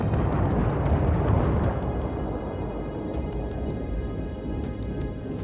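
In the World War I video game Verdun, artillery fire makes a continuous, heavy rumble of distant explosions, with sharp high clicks scattered over the roar and no one talking.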